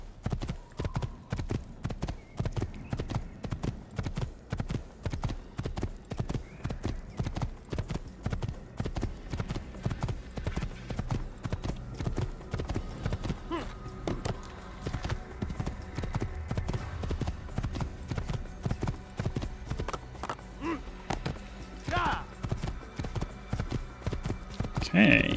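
Horse hooves clip-clopping steadily at a brisk trot while riding in the Assassin's Creed video game, close and even throughout, with a faint neigh near the end.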